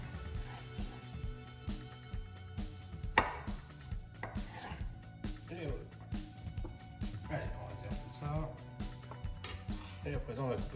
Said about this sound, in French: on va couper toutes ces chutes en petits morceaux